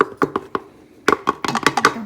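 Bread dough kneaded by hand for breadsticks: a slow run of soft slapping and pressing thumps, a few spaced strokes, then a quick cluster of repeated pushes, close and fairly loud with no talking.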